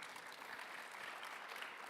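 An audience at a Zagreb startup acceleration event claps steadily for a jury member, a faint, even wash of applause with no voices over it.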